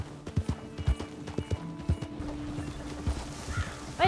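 Horse hooves clip-clop in an irregular run of close, thudding footfalls in Red Dead Redemption 2, with a brief whinny near the end and faint game ambience underneath.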